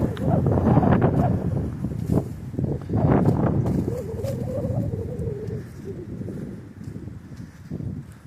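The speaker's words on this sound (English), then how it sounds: "Oh, that wind is chilly." Chilly wind gusts across a lakeside hiking trail at Park Point on Lake Superior, buffeting the microphone in a loud, rumbling roar that rises and eases, with faint bird calls and a voice mixed in.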